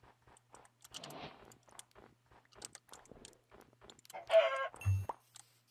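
Short clucking bursts from a chicken in a Minecraft-style video game amid sparse clicks and crunchy bites, with a louder squawk and a low thump near the end.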